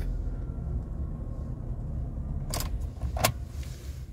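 A Jaguar X-Type car sits under a steady low engine rumble, with two short broadband bursts of jangling keys and ignition noise near the end.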